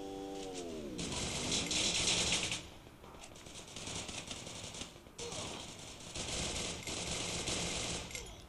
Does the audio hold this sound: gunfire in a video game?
yes